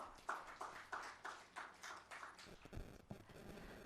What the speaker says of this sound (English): A big round of applause for her once again